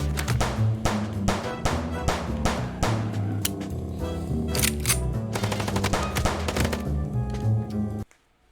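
Rapid bursts of gunfire from the Chicken Police video game crackle over a steady backing score, firing in quick volleys throughout and breaking off suddenly near the end.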